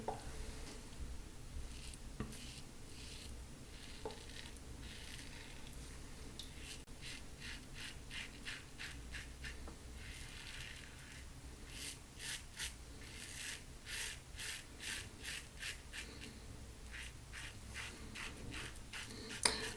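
A razor shaving across the grain makes faint, close scraping strokes, sparse at first and then settling into a quick, regular rhythm, with no talk.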